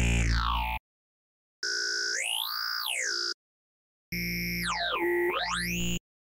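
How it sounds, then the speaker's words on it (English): Phaser wavetable synth tones in three separate bursts with gaps of silence between, each sweeping up and down in pitch with a phasing modulation, bright and loud with no voices. "Next up we have the phasers. Now this is very similar to the flangers, so you get some more like phasing action instead of the flanging."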